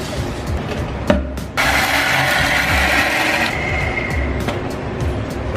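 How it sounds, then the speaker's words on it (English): Peppercorns are crushed in a kitchen after the stove is switched off, making a steady gritty grinding and rasping that runs for several seconds close up, with no talking. "leave that there while we go and grind these peppercorns"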